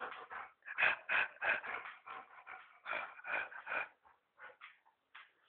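A puppy snorts and breathes in short, rapid bursts close by, a rhythmic run of snuffly puffs that thins into a few scattered sniffs toward the end.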